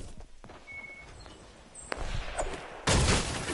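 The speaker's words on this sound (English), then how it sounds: "Okay, gunshots on our radar." Gunfire in the video game Fortnite rings out as several sharp cracks over faint footsteps, ending in a louder burst of shots near the end, with no talking.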